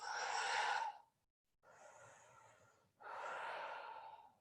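Slow, steady exhales from a person moving into a forward fold in an intermediate vinyasa yoga flow. Three close, breathy whooshes come in separate bursts, the first strongest, with no talking.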